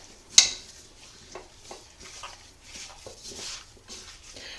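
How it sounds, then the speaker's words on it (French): Beef and olive oil are stirred in a pot: a sharp metallic clink is followed by quiet, irregular scraping and soft sizzling, close and low in level. "Et je vais venir mélanger le tout."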